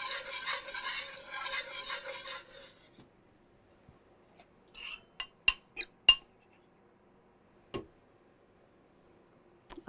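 Steak browning in a pan of oil drippings for country fried steak, a dense sizzle for the first few seconds that falls away, then scattered sharp clinks and taps of metal on the pan in near silence.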